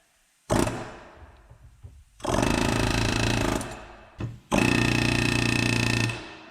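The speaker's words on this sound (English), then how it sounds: "I'm going to start rotating it out using the air hammer" An air hammer on a Datsun 240Z front strut nut fires in three loud rapid-fire bursts, the first short and the next two sustained for about two seconds each, separated by quiet pauses with faint clinks.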